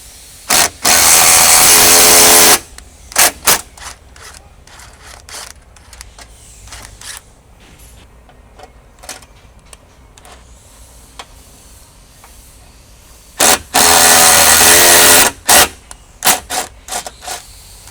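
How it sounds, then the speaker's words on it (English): A power tool drives a bolt into a rib nut on a Ranger 1500 XD frame, with two loud sustained bursts of whirring separated by quieter clicks and handling noises, close up and without talk. "As you turn the head of the bolt, it'll compress the rib nut on the inside of the frame so that it's twist resistant."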